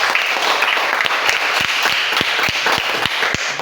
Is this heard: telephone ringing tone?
no